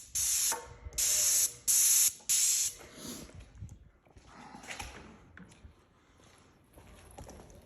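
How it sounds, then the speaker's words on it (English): Four loud, sharp bursts of spray hiss in quick succession, close by, followed by softer clattering and mechanical handling noises. "I'm still getting paint out the sprayer."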